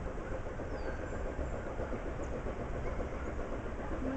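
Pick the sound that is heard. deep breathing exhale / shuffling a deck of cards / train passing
train passing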